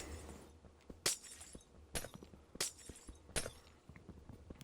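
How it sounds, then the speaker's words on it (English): Glass blocks shattering in a video game while a house is being burned down, four sharp bright breaks at roughly even intervals, fairly close, with faint ticks between them. "Break the glass, we don't need the glass."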